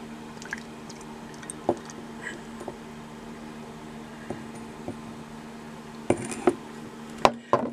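Brooklyn Brewery Sorachi Ace farmhouse saison beer poured into an old-fashioned lager glass, with soft liquid trickling and dripping over a low background hum, then a few sharper splashes and clinks toward the end.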